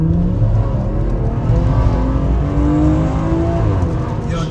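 A BMW F30 340i pulls hard under heavy throttle, its engine note loud and close as it climbs through the revs in one sustained burst, with rising harmonics and steady road and wind roar underneath.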